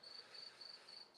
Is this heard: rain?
no